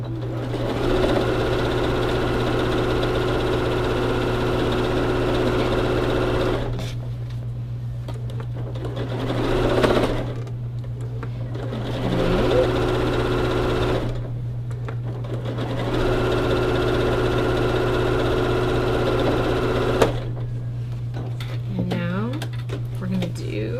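A sewing machine runs in long, steady stretches while stitching baby quilt squares, its motor whirring up close and stopping briefly between seams, over a constant low hum.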